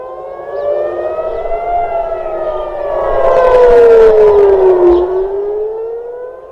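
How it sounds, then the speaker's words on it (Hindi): A loud air raid siren in Israel wails steadily during an Iranian attack, its pitch slowly rising and then sliding down, with another siren droning in the distance. "पूरे इजराइल में एयर रेड के सायरन्स लगातार बजते रहे।"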